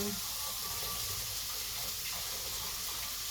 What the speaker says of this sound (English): We've now added the water to the rice,